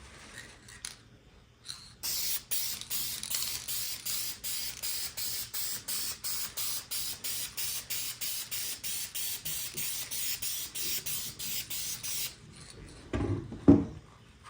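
Spray can laying light coats on an RC snowmobile headlight assembly: a long run of close, rapid hissing bursts in an even rhythm, then quiet handling noises and a brief clunk at the end.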